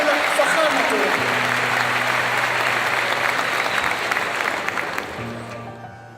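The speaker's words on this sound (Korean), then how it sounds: "따뜻한 박수로 환영해 주시기 바랍니다" An audience at Cairo University gives sustained, dense applause to welcome the South Korean president, loud and steady before gradually fading, with a sustained tonal hum beneath it.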